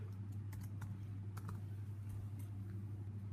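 Soft, quick keystrokes on a computer keyboard while Arduino code is typed, faint clicks over a steady low hum.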